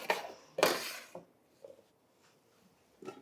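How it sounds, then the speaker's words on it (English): Chopped vegetables are pushed off a cutting board with a bench scraper into a slow cooker, giving two bright clattering scrapes up front, then a few softer knocks and taps trailing off in a quiet kitchen. "So into the slow cooker they go."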